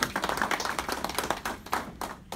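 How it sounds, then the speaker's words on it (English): Clapping from a small gathering at the Nigerian Consulate in New York during a visit by the Ooni, distinct, rhythmic hand claps from a few people, close and fairly loud, thinning out toward the end. "A round of applause for that, please"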